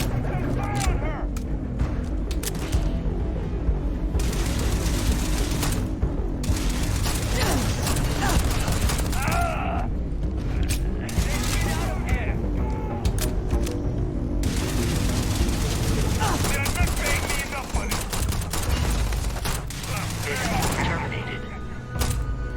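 Heavy gunfire erupts in a Starfield firefight, with dense bursts of automatic shots and sharp cracks rattling almost continuously at loud volume, broken only by brief gaps amid the chaotic combat noise.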